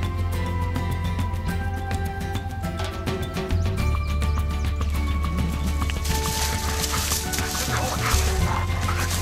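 A German shepherd police dog trained by Georgia's Department of Natural Resources in Forsyth barks and yips during a hidden-gun search, with steady loud outdoor noise and other animal sounds throughout.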